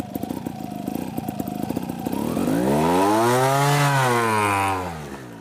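A vehicle engine climbing a hill in second gear revs hard, its loud buzzing drone rising steeply in pitch, holding high for a couple of seconds, then easing off near the end, with no talking.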